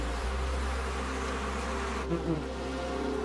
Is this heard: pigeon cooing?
no